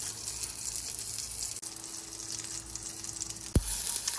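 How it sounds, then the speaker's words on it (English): Tomato frying in a pan for a mole de pollo, with a steady soft sizzle that runs throughout at low volume and a brief clatter near the end. "so our tomato has been frying here, I would say about 3 to 4 minutes"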